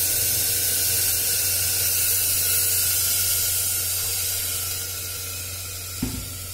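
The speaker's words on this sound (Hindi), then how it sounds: "अब जैसे इसमें हम पानी डाल देंगे," Water poured into a hot pan sets off a loud, broad steaming hiss up close, fading gradually toward the end, with a brief knock near the close and no speech.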